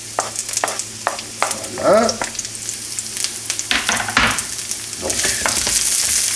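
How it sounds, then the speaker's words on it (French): Ginger and sliced onion hiss and sizzle in a spoonful of hot oil over high heat for beef with mushrooms, with stirring scrapes and clinks, close and loud, while a voice speaks briefly. "Vous allez y faire revenir maintenant le gingembre, l'oignon émincé"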